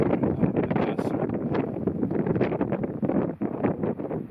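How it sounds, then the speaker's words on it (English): Strong, continuous wind at Deerhead Lake in the East Pioneer Mountains buffets the microphone during fishing, loud rushing gusts, a dense roar with no clear speech. "the gusts are interfering with my casting and sometimes my talking right now."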